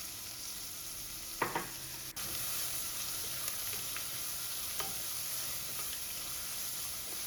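Sliced onion with a pinch of salt sautéing in a pan for a curry: a steady close sizzle with occasional scraping stirs and soft clanks, no talking.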